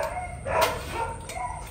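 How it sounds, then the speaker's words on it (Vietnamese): A dog barks at a home in rural Vietnam, giving a few short yapping barks at moderate distance with breaks between them and no talk over them. "Mình quay là nó sủa đó."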